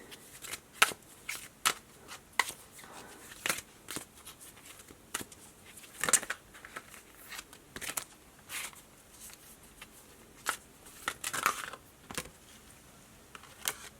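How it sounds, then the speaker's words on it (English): Oracle cards being shuffled by hand during a pick-a-card reading, with a string of soft, close riffling and slapping bursts in an uneven rhythm over a quiet background, no talking. "I'm going to pull you guys some oracle cards."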